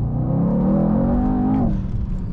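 A tuned Mercedes E63 AMG with roughly 700 bhp revs up with a loud, close, rising engine note, holds briefly, then the pitch drops sharply as the throttle lifts, followed by a quieter settling whir.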